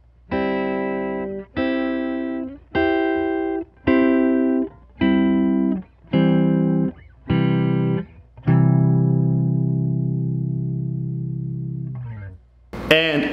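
A clean electric guitar strikes a series of triad chords, each ringing briefly before the next, ending on a longer sustained chord that fades out.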